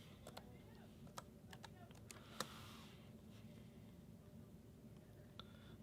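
Computer keyboard typing while entering text in Brother P-touch label software for a QL-800 printer, a quiet run of light, irregular key clicks over a steady low hum.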